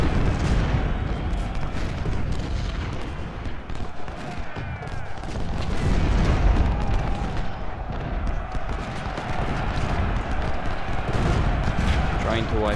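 Artillery and musket fire in a Civil War strategy game about the Battle of Antietam forms a constant dense rumble of booms and crackling volleys throughout.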